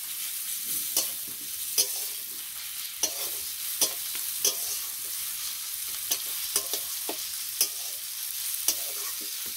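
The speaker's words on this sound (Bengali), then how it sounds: "রসুন দেওয়া হয়ে গেছে, এবার ভালোভাবে একটু নেড়ে নেব।" Onion and garlic frying in a pan while being stirred, a close, steady sizzle broken by regular sharp scrapes and clinks of the spoon against the pan, with no talking.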